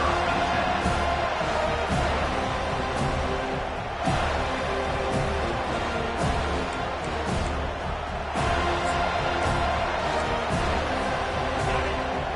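Stadium crowd in the College Football 25 video game roars continuously for a visiting team, a loud, steady wall of cheering with periodic thumps and swells throughout.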